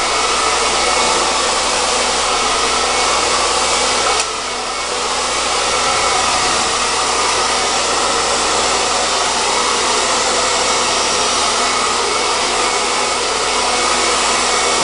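A hair dryer roars steadily and loudly at close range while hair is blow-dried with a round brush, with one brief dip partway through and no talking.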